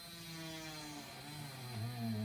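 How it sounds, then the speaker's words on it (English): A small power drill bores a hole in the top of a craft item. Its motor gives a steady whine that climbs in pitch and gets louder near the end, with no voices. "Drill the hole in the top and you'll hear it."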